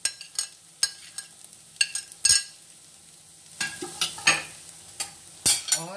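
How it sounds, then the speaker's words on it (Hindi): Cashews and peanuts being stirred into sabudana khichdi in a pan with the gas off, giving a series of scraping spoon strokes and soft clinks against the metal, irregular and close, with no talking. "ये जो मैंने काजू और मूंगफली के साबुदाने रखे थे वो भी मैं इसमें मिक्स कर रही हूँ"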